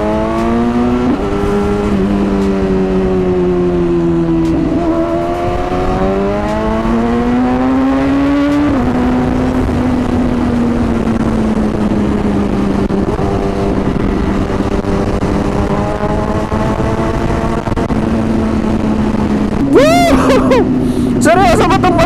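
A BMW S1000RR motorcycle engine revs and accelerates hard, its sharp rising pitch climbing through several gear pulls with brief dips between them, then a final burst of high revs near the end. A rider talks over it at times.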